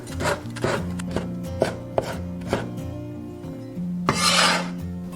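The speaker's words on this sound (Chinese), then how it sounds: "生姜切成姜末" A knife minces ginger on a cutting board with quick, rhythmic chops close by, about a dozen sharp strikes with a brief scraping sweep near the end.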